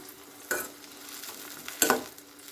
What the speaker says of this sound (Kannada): ಇದು ಚೆನ್ನಾಗಿ ಫ್ರೈ ಆಗಲಿ